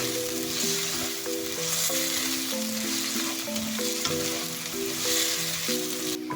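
Potatoes and carrots fry with spices in a pan, giving a steady close sizzle throughout, with a melodic tune playing over it.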